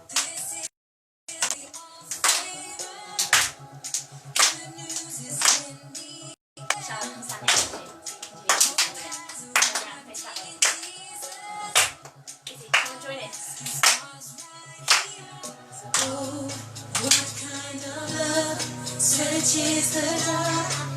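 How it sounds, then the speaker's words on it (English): Group of kids clapping in rhythm along to upbeat music, sharp hand claps repeating steadily over the song throughout. "Get some clapping going."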